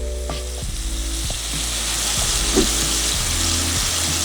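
Steady oil sizzle and crackle of flour-coated chicken frying, continuous and close, with a few soft clinks and stirring knocks along the way.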